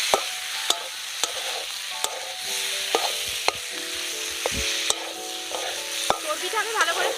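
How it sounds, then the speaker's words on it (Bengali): Boiled mutton fat, pre-cooked with salt and turmeric, sizzles in a pan with spices, a steady loud frying crackle broken by sharp clicks of a spatula stirring, with no talking. "এবার আমি এখানে সিদ্ধ করে রাখা চর্বিগুলো দিয়ে দেব।"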